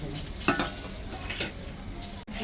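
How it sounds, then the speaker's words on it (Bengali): Steady sizzling of rui fish frying in a pan, with occasional scraping and clinks of utensils against the cookware. "এখন মাছটা ভাজা বসে"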